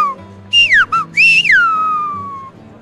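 Silbo Gomero, the whistled language of La Gomera, heard as a loud, close, solo whistled phrase: two bursts of sharply gliding pitch separated by a brief gap, then a long falling tone that slowly fades.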